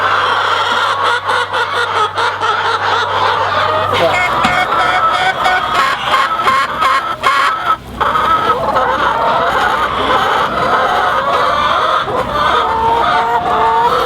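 Hens in a farm chicken coop cluck and squawk nearly nonstop, a loud, busy chorus of overlapping bird calls close by, with people talking under the flock throughout.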